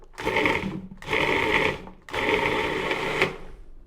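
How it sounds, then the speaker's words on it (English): A food processor purees an ice cream mixture in three loud bursts of whirring motor and blade noise with brief pauses between them. It sounds close, with no talking. "So let's get this all pureed."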